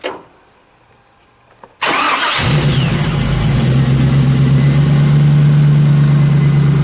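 After a quiet moment with faint clicks, a 1937 Ford Cabriolet custom's engine cranks and fires, then settles into a loud, steady rumbling idle close by.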